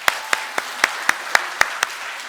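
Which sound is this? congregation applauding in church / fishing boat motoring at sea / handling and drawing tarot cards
congregation applauding in church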